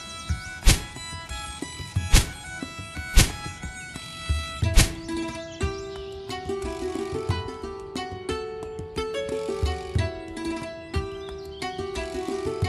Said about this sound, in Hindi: चलो इसे ही काट लेता हूँ।